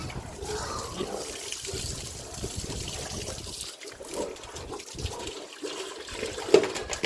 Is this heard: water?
yes